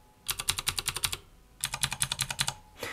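Fast clicky typing on a mechanical keyboard fitted with Cherry MX Green switches, two close bursts of crisp, evenly paced keystrokes with a short pause between them.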